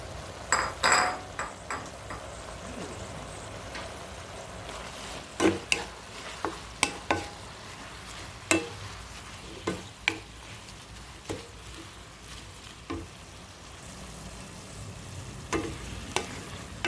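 Pechay leaves stir-frying with oyster sauce in a pan, with a low background sizzle broken by scattered clinks and scrapes from the spatula.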